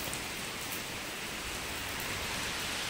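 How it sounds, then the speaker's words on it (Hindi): Heavy rain pours down outdoors in a dense, unbroken hiss, loud and steady throughout with no voices. "देखो अभी भी बारिश आ रही है जबरदस्त"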